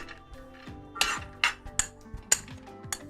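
Peanuts being stirred in a preheated pot for homemade peanut butter, with several scraping, clinking strokes of a utensil against the pot at an uneven pace, fairly quiet and close.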